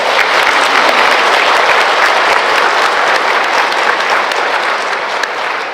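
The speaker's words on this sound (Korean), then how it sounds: "다시 한번 우리 자신을 위해서 박수 한번 칠까요?" A Catholic congregation at a Holy Spirit seminar in a parish church applauds, dense sustained clapping filling the room, loud and steady throughout with no talk over it.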